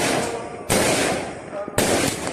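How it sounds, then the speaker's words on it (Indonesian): Firecrackers go off during Raya celebrations in a Malaysian village, two sharp, loud cracking bursts about a second apart, each trailing into a crackling rattle, amid busy background noise. "Saut-sautan mercon ya."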